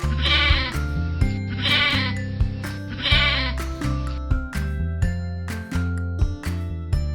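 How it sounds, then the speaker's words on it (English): Sheep bleating three times in a row, loud and close, each bleat a wavering call set over light background music and chiming. "sheep."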